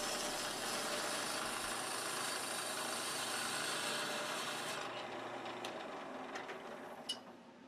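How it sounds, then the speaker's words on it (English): A flat parting tool just over 1/8 inch wide cuts end grain on a spindle turning on a wood lathe, producing a loud, steady rasping hiss over the motor hum that fades as the cut finishes. "Now I'm going to repeat the test, this time with just a straight, flat parting tool, a little over 1/8 inch in width."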